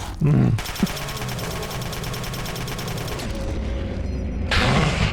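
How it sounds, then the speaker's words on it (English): SMG gunfire in the Fallout 3 video game, a long rapid-fire burst of evenly spaced shots across most of the clip, loud and close, with a voice speaking briefly at the start and end. "the SMG did not work as well as I had hoped"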